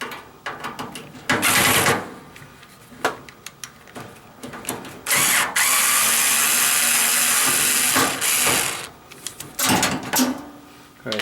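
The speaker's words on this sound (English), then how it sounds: "We're going to remove" A power tool drives out a single screw from the front heater assembly of a Samsung dryer that is not heating, with short bursts of buzzing, then a long steady whir, and clunks and handling noises around it.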